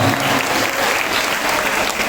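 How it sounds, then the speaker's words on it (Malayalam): Loud, dense applause from an audience at a church catechism annual day, continuous clapping close up for the whole stretch. "അതിന് പ്രത്യേകം നിങ്ങൾക്ക് നല്ലൊരു കൈയടി നൽകുന്നില്ല"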